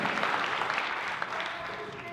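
Applause from an audience at a comedy fundraiser in Los Alamos, a brief burst of many hands clapping at steady loudness, with some voices and cheers mixed into the crowd.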